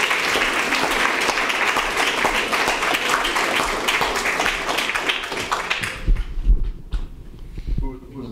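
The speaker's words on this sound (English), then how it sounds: "So we owe him a round of applause." An audience at an award celebration during a reunion event gives a loud, dense round of applause for about six seconds, then the clapping thins and fades as a voice begins speaking nearby.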